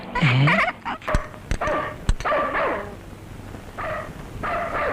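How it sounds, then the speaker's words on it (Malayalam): A dog yips and barks repeatedly in short, high bursts with whiny tones, a few sharp knocks between, fairly close. "ഈ പട്ടി എന്താ ഇങ്ങനെ കിടന്ന് കുരയ്ക്കുന്നേ?"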